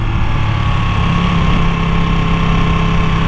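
Ducati Panigale V2 motorcycle engine running hard and close, a loud, dense, steady mechanical drone with no breaks or pauses.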